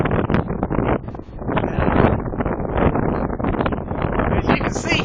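Strong wind gusts roar across a stormy beach with 60-plus gusts and heavy seas, buffeting the microphone in a loud, continuous blustering rush with surging peaks.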